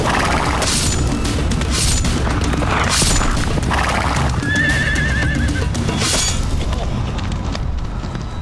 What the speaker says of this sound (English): don't stand still if a man on a horse is coming at you with a sword